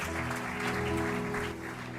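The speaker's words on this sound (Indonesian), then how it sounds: "Kita berikan tepuk tangan buat Tuhan." A congregation at an online Sunday worship service applauds, the clapping blending into a bright wash over sustained tonal music that carries through the whole moment.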